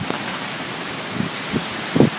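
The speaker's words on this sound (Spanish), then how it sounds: "ahora está empezando a llover otra vez" Rain falls steadily in Japan as a typhoon approaches, a constant hiss with a few louder patters and thumps toward the end.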